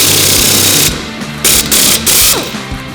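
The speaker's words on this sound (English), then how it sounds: "put the bolt, a new bolt in, and you hammer down on it and it pulls the stud back up into its slot" Repeated hammer blows drive a new bolt into a wheel stud slot while mounting bead lock wheels, several sharp metallic strikes ringing out loud and close over a steady mechanical background.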